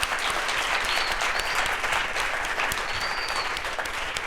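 An audience at a community health conference claps steadily for a community panel, a dense, even round of applause that stays full and close throughout with no voices on top.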